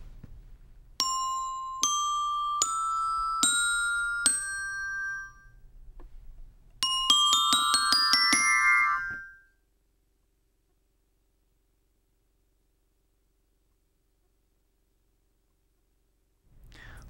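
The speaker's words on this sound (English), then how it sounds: "Dampening on the bells can be performed by using your free hand to muffle the sound" Bright metallic orchestra bell tones struck one at a time in a slow series, each ring cut short by hand muffling, then a quicker run of notes before silence.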